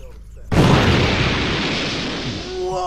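A single loud gunshot bursts out after a short quiet moment, then a long rumbling echo rolls on and slowly fades.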